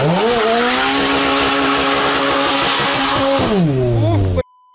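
A car fitted with a swapped Audi RS6 engine, using RS6 coils and plugs, accelerates hard with a loud rising engine roar close to the microphone. After a brief gear change the revs climb again, then the sound cuts off abruptly.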